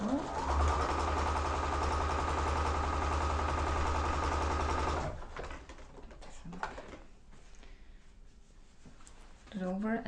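A sewing machine stitches quilt block rows in a fast, steady mechanical whir for about five seconds, then stops, leaving quieter handling noises and faint talk.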